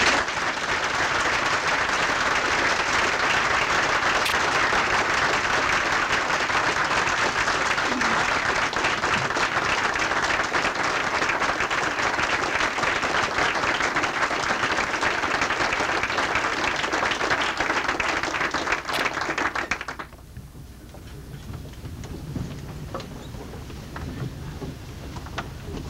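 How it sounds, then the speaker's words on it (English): A large gathering at an Eagle Scout Court of Honor claps for John, a loud, sustained round of applause lasting about twenty seconds before it cuts off abruptly, leaving quiet room tone with faint rustling. "let's give John a round of applause"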